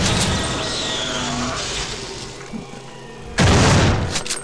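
A Rumpler monster in the game System Shock 2 lets out a deep, booming roar that swells suddenly near the end, loud and close over rumbling game ambience.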